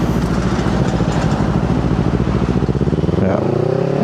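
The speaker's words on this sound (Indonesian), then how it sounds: "dari suara knalpot kelihatan ya agak lebih berisik" A Kawasaki Z250 motorcycle with a newly fitted aftermarket exhaust and remapped ECU runs close by with a loud, rapid, throbbing engine pulse, shifting pitch near the end as a voice begins speaking over it.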